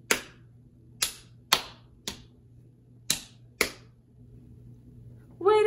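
Six sharp hand claps ring out alone in an uneven rhythm of quarter and eighth notes, with a short musical tone entering at the very end.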